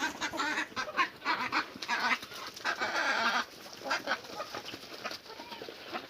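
Chickens crowding around a feed of mixed bran mash at a home yard in Morocco, with busy overlapping clucks and scratchy pecking noises filling the scene nearby, fairly loud and continuous without speech.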